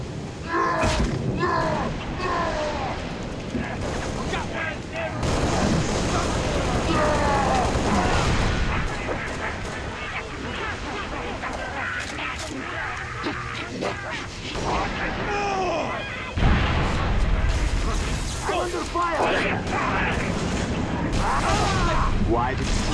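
Sustained game gunfire and blasts from a Halo Reach battle against Covenant forces, steady and loud for the whole stretch, mixed with shouted voices and combat chatter.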